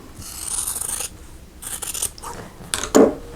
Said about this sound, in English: let's cut a 1/4 inch away from that seam